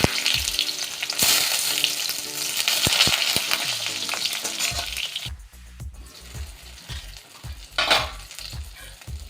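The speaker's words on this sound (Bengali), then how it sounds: "এবার দিয়ে দেব বেগুনগুলো আমি একটু ভেজে নেব।" Eggplant sizzles vigorously in hot mustard oil in a wok, a dense crackling hiss punctuated by sharp clinks and scrapes of a spatula, growing quieter and sparser toward the end.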